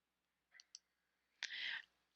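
Faint mouse clicks on a computer running Google Slides: two quick, quiet clicks, then after a short pause a brief click followed by a soft rustle.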